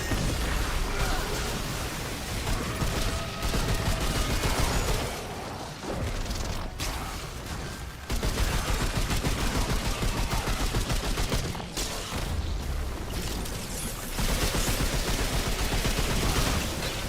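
Rapid, continuous gunfire from a weapon in the video game Remnant 2, loud and close, with dense bursts running almost the whole time and a few brief gaps as shooting pauses.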